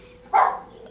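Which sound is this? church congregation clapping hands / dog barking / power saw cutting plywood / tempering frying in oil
dog barking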